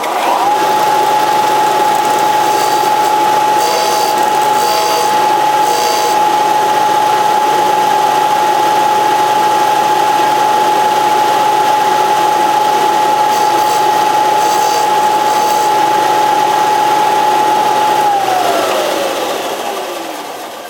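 Vintage Briggs & Stratton model WI small engine running steadily at close range, a loud continuous drone with a sustained whine that drops away as it slows near the end.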